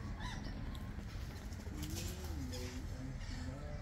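A rainbow lorikeet (Trichoglossus haematodus) gives soft, brief calls in a New Zealand park, faint against a steady background of rumble and wind.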